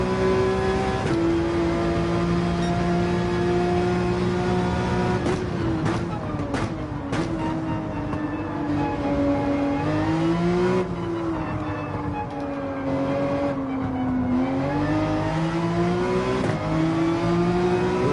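A Nissan GT-R race car in Gran Turismo 7 keeps up a loud, steady engine drone whose pitch climbs and falls through gear changes and revs during an online race, with brief clicks and shifts partway through.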